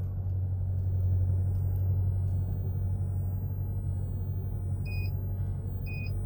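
Two short electronic confirmation beeps from an IGLA anti-theft system in a 2024 Land Rover Range Rover sound over the steady low hum of the idling engine inside the cabin, spaced about a second apart near the end.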